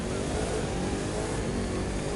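A Bugatti Chiron's engine in the racing game The Crew 2 revs steadily and loudly at a race start, a dense, continuous roar lasting throughout with no pauses.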